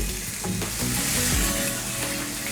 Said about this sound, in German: ich möchte ihn scharf angebraten haben